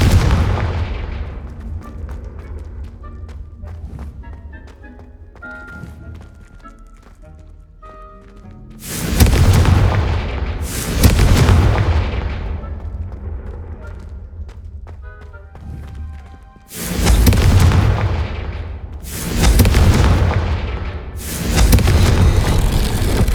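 Confringo fire spell blasts in the Hogwarts Legacy video game: five heavy booming bursts in two clusters, each a loud rumbling explosion that fades out, after a quieter stretch of chiming game sounds.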